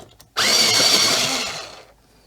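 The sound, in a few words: pencil sharpener sharpening a colored pencil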